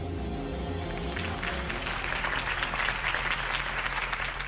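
Crowd applause rises after a campaign speech for Harvey Dent, a steady, dense wash of many hands clapping that swells slightly and continues throughout, with music or low tones underneath early on.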